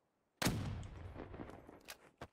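A single sharp sniper rifle shot in Call of Duty Black Ops 3, an abrupt crack with a short decaying tail, followed by a couple of quieter clicks and impacts.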